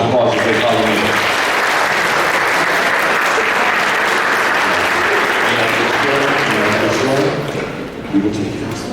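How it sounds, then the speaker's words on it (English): Sustained audience applause fills the hall, loud and dense from start to finish, with the clapping thinning slightly near the end and some voices and music-like tones mixed underneath. "Give them a big round of applause as they follow me."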